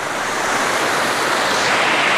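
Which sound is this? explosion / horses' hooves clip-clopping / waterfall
waterfall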